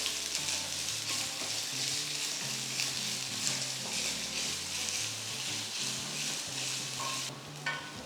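A medium chopped onion, added to chopped garlic, sizzles in a hot pan with steady crackling frying and occasional stirring scrapes, up close and alone.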